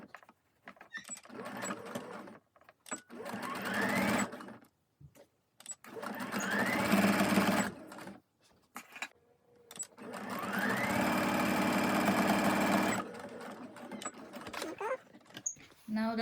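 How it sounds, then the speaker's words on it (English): A sewing machine stitches around the top edges of a fabric tote bag in three long, steady runs of rapid whirring, separated by short pauses with soft handling noises. "Now we're ready to sew our bag around the edges of the top of the bag."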